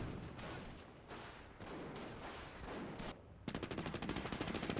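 Mortar fire in the video game Company of Heroes 2: a run of loud, closely spaced blasts and crackling bursts, then a rapid rattling volley of fire toward the end.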